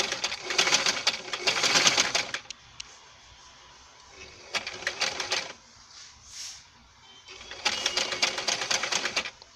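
A sewing machine sews bias piping around a curve in three short bursts of fast rattling stitching, each stopping between runs, with quieter handling noise in the gaps.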